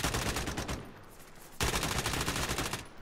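Rapid bursts of gunfire in a realism-style battle royale video game, two dense volleys of repeated shots split by a short lull, loud and close, with no talking.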